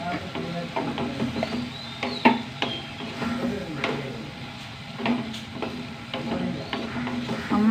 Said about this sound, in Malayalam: ഒന്ന് വഴറ്റട്ടെ. പടവലങ്ങ നന്നായി വാടി കിട്ടും.